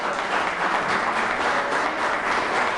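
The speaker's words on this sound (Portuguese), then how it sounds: "Então aplauda o Senhor, Ele merece." Church congregation applauding during a communion service, a thick, even roar of clapping from many people that stays steady and fairly loud throughout, with no speech.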